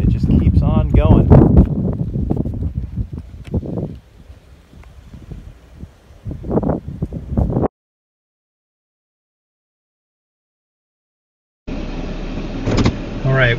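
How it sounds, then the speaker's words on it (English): A car drives over rough Arizona desert terrain, its engine and wind rumbling loudly up close, with people talking over it and a silent gap before the noise resumes. "we're driving over the north end of the Crack."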